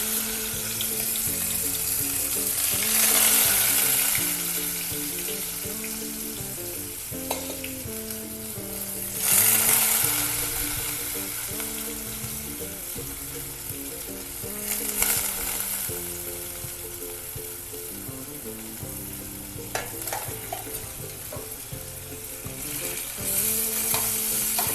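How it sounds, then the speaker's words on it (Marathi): Drained rice is stirred in hot fat in a pan, making a continuous loud frying hiss with periodic bursts of scraping and rustling as the grains are turned, close-up and without talk. "आता हे तांदूळ आपण परतून घेतो."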